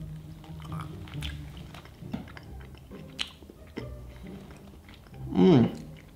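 Pumpkin-shaped candy corn chewed close up, soft crunching bites and mouth sounds scattered through the clip with a louder burst near the end.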